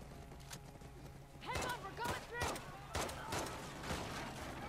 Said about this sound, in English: I'm not actually controlling the horse.